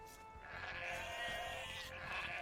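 Sheep in the strategy game Age of Empires II bleat in a steady, wavering call that holds for a couple of seconds, clear and alone with no talk over it.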